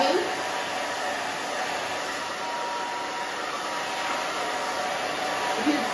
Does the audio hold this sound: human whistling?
no